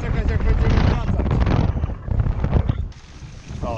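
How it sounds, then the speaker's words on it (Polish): Strong gusts of wind buffet an outdoor microphone near a pumptrack, a loud roaring rumble that surges and eases, with a brief lull before picking up again. "O, słyszycie jak wieje?"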